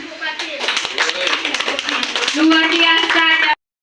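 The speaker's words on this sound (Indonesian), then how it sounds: "Tepuk tangan buat Ibu Fatin." Clapping for Ibu Fatin in a classroom or training session, a brisk run of close, rhythmic hand claps under chatter and voices that ends abruptly.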